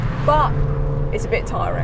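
A Hyundai i20N hot hatch engine drones low and steady while driving, sitting beneath a person talking over it throughout.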